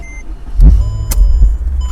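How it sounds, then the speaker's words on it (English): A 2006 Mercedes-Benz CLK 500 convertible engine cranks and catches with a deep low rumble that keeps idling, while a few electronic chimes sound from the dashboard. "start the car, and put the steering wheel in the right position"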